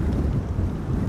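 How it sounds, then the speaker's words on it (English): Storm Amy wind blowing hard across an outdoor camera position at Amsterdam Schiphol Airport, a dense low rumbling buffet of gusts battering the microphone, loud and continuous with no voices. "Wind is blowing perpendicularly to the camera position"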